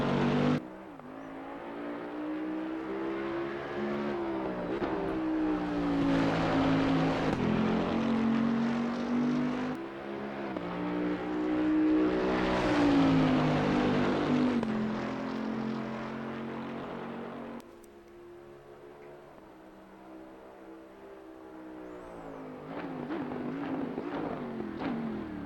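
A high-torque race car in a racing video game, its engine note climbing steadily through the gears with sustained loud revving, dipping briefly at shifts before rising again, no voices.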